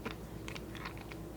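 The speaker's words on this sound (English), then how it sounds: "I was just chewing ice." Ice being chewed, crunchy bites in a quick cluster of short crackling bursts, close and fairly quiet, with no talking.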